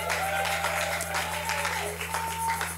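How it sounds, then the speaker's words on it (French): A church audience claps and cheers for a team, a dense wash of applause with voices mixed in, over a steady low hum from the sound system. "Est-ce que vous pouvez vous encourager par des acclamations?"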